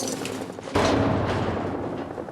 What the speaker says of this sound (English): You can hear gunfire in the background.